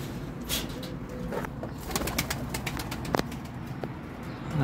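Pigeons coo softly nearby amid a flurry of wing flaps and light clicks, with faint outdoor background noise.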